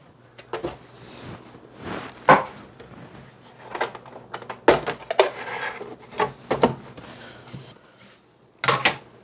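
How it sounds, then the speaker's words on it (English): Plastic Y-axis cover of a Bambu Lab A1 3D printer being opened and handled, a series of irregular close clacks, snaps and rattles spread over several seconds, some sharp and loud. "Open the Y-axis cover."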